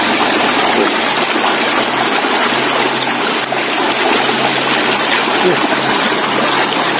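A river in a Sundanese village, swollen after rain and eroding its red-earth banks, rushes steadily as broadband flowing water, continuous and fairly loud with no talk over it.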